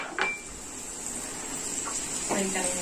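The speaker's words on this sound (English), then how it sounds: "So now let us stir it." A utensil scrapes and clinks against a pan while grated carrot and vegetables are stirred, giving a few brief metallic taps over a soft background hiss.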